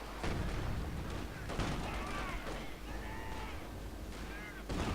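Explosions in a Company of Heroes 2 battle, where infantry is hit by a grenade: a few blunt booms amid background combat noise, with faint voices and whistling tones over the din.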